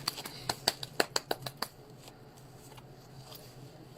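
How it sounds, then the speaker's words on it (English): A quick burst of crisp tarot card riffles and snaps, about a dozen rapid clicks close up, then fading into quiet room noise. "So I'm shuffling the deck."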